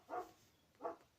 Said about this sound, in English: that's my big dog Clay, who is barking because Robin has let him out and left him out in the cold.